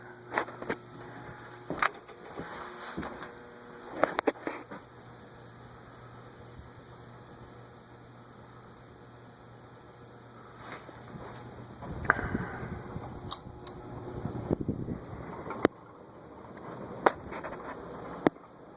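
A 1980s Lasko/Sanyo top-mount spinner ceiling fan with a plain bottom plate runs with a low steady hum, while something loose on it rattles and clicks in irregular bursts, louder near the end.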